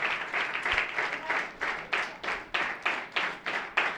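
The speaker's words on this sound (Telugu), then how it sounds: "గట్టిగా చప్పట్లు కొడదాం." A crowd at a New Year's Day church gathering claps loudly in strong, rhythmic unison bursts, roughly two claps per second, close and sustained throughout.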